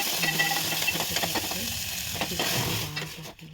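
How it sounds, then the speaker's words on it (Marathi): Cumin, mustard seeds, curry leaves and garlic sizzle and crackle steadily in hot tempering oil for dal, with stirring throughout. The sound is close, continuous and fairly loud, then thins out near the end. "आता इथे वरणाची फोडणीसाठी जिरे मोहरी कढीपत्ता लसूण त्याला परतून घेतो"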